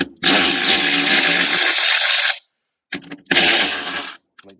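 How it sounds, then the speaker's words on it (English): A power tool spins to remove battery fasteners on a Mercedes S-Class W222, a loud close high-speed whirring burst of about two seconds, then a brief pause and a second shorter run with small clicks. "we're going to be using our power tools"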